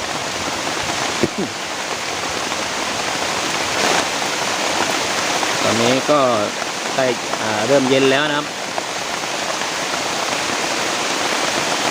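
Heavy rain pours steadily onto a forest in a dense, continuous hiss while someone talks briefly partway through.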